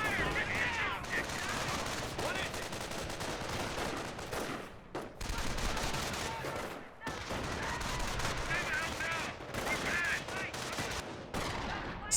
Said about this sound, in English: Sniper does take a shot there on the MG42